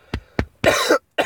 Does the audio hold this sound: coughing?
yes